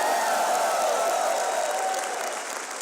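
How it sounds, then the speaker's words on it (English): Applause from a crowd in another room comes through as a dense, steady wash of clapping. It stays fairly loud and continuous for a few seconds, then eases off slightly toward the end. "You hear applause from another room when I say I've been wrong."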